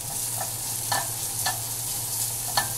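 Thinly sliced mushrooms frying in a pan with thyme, a steady close sizzle under repeated scraping stirs of a utensil against the pan, with no voices.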